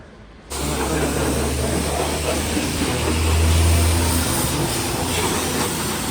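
A loud, steady hiss of water spraying from a pressure hose onto a car being washed starts after a brief quiet moment and continues, with a low mechanical hum underneath.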